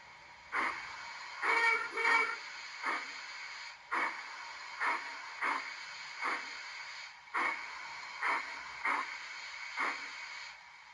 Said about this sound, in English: well, that is chuffing perfectly.